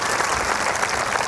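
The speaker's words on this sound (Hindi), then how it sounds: "ताली बजाकर पुलिस प्रशासन को भी धन्यवाद" A crowd applauds for the police administration at a religious gathering at Bhuneshwari temple in Kanker, producing a dense, steady clapping that fills the space without any break.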